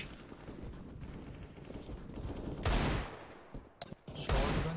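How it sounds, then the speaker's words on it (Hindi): Shotgun blasts in the game CS:GO, two loud broadband bursts near the end with short sharp cracks between them, over a steady bed of background game noise. "शॉटगन चला रहा"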